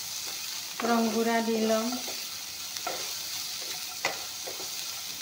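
Onion and green chilli fry in a pan with a steady close sizzle and occasional stirring scrapes, while someone speaks briefly over the cooking early on.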